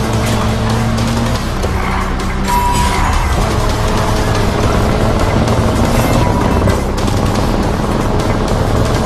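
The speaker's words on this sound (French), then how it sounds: "Attention, décollage d'hélico 1 vers votre position." A police helicopter lifts off in the Need for Speed racing game, its steady rotor roar loud and constant throughout, blended with car engine noise and tyre sounds, no voices.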